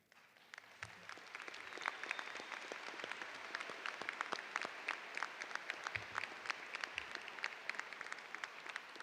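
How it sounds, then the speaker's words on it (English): At a high school commencement ceremony, a crowd applauds cum laude graduates in a large hall, a steady, somewhat distant rattle of many hands with sharper individual claps poking through, fairly quiet overall and sustained throughout. "Will all cum laude students please stand now so we may applaud your achievements?"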